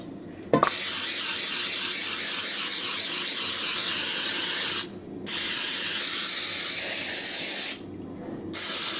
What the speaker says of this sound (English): Next, I'm going to go ahead and grease this 9x13 pan.